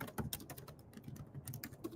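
Rapid typing on a computer keyboard while entering a terminal command, a steady patter of quiet clicky keystrokes, close and continuous throughout.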